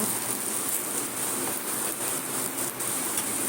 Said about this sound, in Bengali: জানলা খোলা আছে তো বৃষ্টির জল আসছে। আওয়াজ কি পাচ্ছ তোমরা? বৃষ্টির আওয়াজ